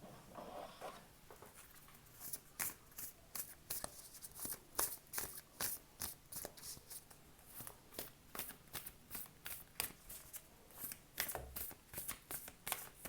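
Tarot cards are shuffled by hand to draw an advice card, with a quick, steady run of crisp riffling flutters close by and quiet, with no talking.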